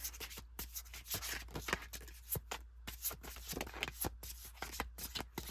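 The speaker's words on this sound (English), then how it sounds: "Sorry, I'm shuffling too much. One more shuffle." Tarot cards are shuffled by hand in a steady run of soft, papery riffling and tapping clicks, close and fairly quiet, with no one speaking.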